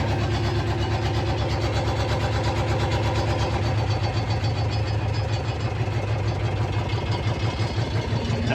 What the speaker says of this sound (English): That's the operation of the diesel engine, the Sabb diesel engine on W Grebe